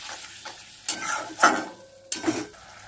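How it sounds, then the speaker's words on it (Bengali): Spice paste frying in a pan for bhindi do pyaza, with three bursts of stirring scrapes over a steady soft sizzle, close and moderately loud, no talking. "আস্তে আস্তে মশলাটাকে একটু কষাতে হবে।"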